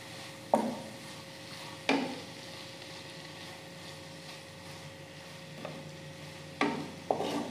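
A chicken filling frying in a pan, with a soft, low sizzle punctuated by a few sharp knocks of a utensil against the pan, fairly quiet and without talk.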